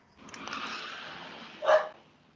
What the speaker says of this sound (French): J'ai entendu le chien qui a fait waouh et puis un truc qui a fait ouf.